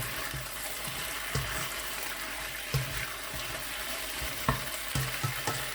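Chicken pieces sizzle steadily in a pan of cornflour-and-water mixture for chicken Manchurian. Frying hiss is constant and close, with occasional soft stirring knocks.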